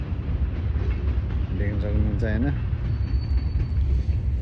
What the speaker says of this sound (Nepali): यहाँ देख्न सकिन्छ यो रियल रेलवे कुदिरहेको छ